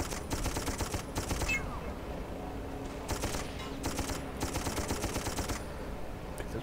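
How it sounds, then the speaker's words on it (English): Rapid automatic gunfire in the first-person shooter game Darkest of Days, coming in several sustained bursts with brief gaps, moderately loud over steady background battle noise. "We're being shot at."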